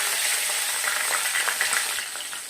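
Cumin, green chili and bay leaf fry in hot oil in a wok, a bright, close, continuous sizzle with crackling spits and light stirring throughout.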